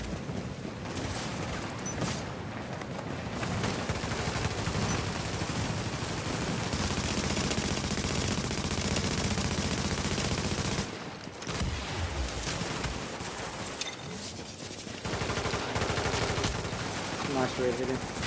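Sustained rapid gunfire and explosions from a shooter video game roar almost without a break, loud and dense, easing briefly midway before resuming.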